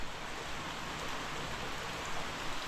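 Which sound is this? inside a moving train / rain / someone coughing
rain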